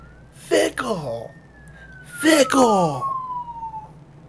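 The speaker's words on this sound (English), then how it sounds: "Sorry about the siren in the background." A siren wails in the background, its falling tone sliding across the clip while voices talk over it in two short bursts.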